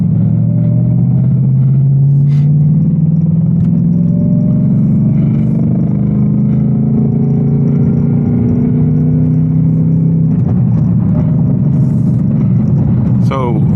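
An 810 hp Ford Mustang RTR GT pulling hard up to merging speed, its engine drone climbing in pitch through successive gear changes, loud and close from inside the cabin.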